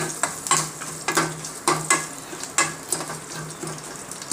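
Garlic fries in hot oil for a dal tempering while a spoon stirs it, giving a continuous sizzle broken by regular scraping strokes, close and fairly loud.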